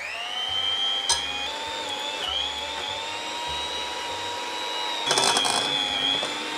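An electric hand mixer whirs steadily as it beats butter and sugar until pale and fluffy for a cake, a continuous motor drone with small shifts in pitch as the beaters move through the bowl.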